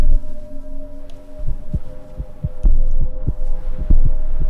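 Steady heartbeat thumping in the horror video game From The Darkness, a regular double-beat pulse that grows louder and more prominent over a low constant hum.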